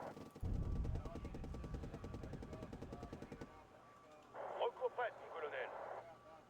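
Rapid machine gun fire in a video game rattles in a fast, even burst for about three seconds, followed by a few quieter staccato shots further off.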